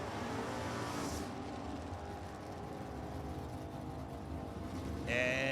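Drag racing cars run down an NHRA strip, a steady engine roar heard from a distance under crowd and track noise, rising at the end as a pass finishes.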